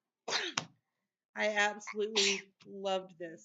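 A single sharp sneeze close by, quickly followed by a person speaking.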